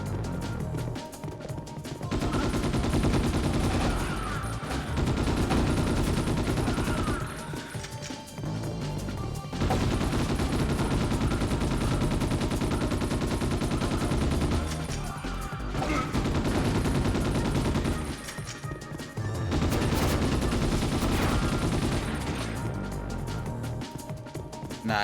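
Sustained gunfire in the retro shooter Ghost in the Shell: Stand Alone Complex, long dense bursts of shots with crashing impacts, broken by brief gaps, over a steady loud game soundtrack.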